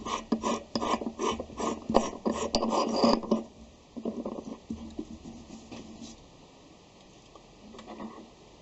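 A metal lathe slowly drills a 12 mm hole in a bushing, giving a rhythmic scraping, ratcheting grind in quick pulses. It later fades to a softer, intermittent rasp with near silence at the end.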